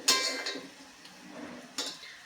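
A spoon stirs cardamom powder into sweet potato slices in a pan, making a short scraping clink at the start and another around two seconds, with a faint sizzle in between.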